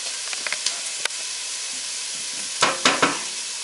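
Three chopped garlic cloves sizzle in a hot pan, a steady close hiss of frying with a few light stirring scrapes and crackles, with no talking over it.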